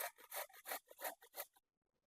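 Soft Indian gooseberries (amla) rubbed by hand across a grater in about six quick, rhythmic rasping strokes, close and crisp, then silence.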